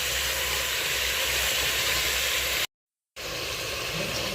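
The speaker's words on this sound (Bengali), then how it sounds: "তেলটা গরম হয়ে গেছে, এবার আমি মাংসগুলো দিয়ে দেবো।" Mutton pieces go into hot oil for rogan josh and set off a loud, steady hiss of sizzling that fills the clip, cut by a brief half-second gap before the frying noise resumes just as strongly.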